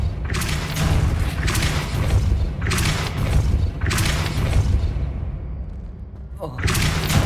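Spell impacts in Hogwarts Legacy: repeated broadband bursts and thuds of a Repulsor spell being cast during a boss fight, loud and close over a busy low game rumble, with a final blast at the end.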